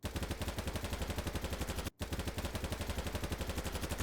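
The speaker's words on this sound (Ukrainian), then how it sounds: "Всі автомати стріляють однаково пластмасово." Rapid automatic assault rifle fire rattles in two long, evenly paced bursts separated by a brief pause, loud and close, in the video game BattleBit Remastered.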